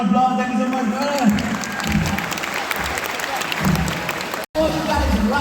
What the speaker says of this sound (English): Let's bring Cody a big round of applause.